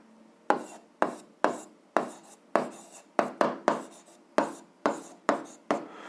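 Quick handwriting strokes while working through a school physics exercise: about a dozen short, scratchy marks in an uneven rhythm, close and distinct, with no talking.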